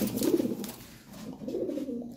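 A pair of domestic pigeons coos in soft, low, rolling phrases close by, with two distinct coo bouts separated by a short pause and no talking.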